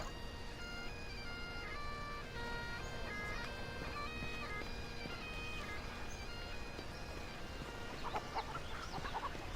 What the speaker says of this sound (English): Oh god, I can kill a chicken.